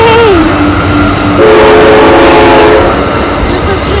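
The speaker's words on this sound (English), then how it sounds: "There's a train!" A train passes loudly near Bells Rapids, its horn blaring in long sustained blasts over rumbling wheels and engine noise, with people's voices faintly mixed in.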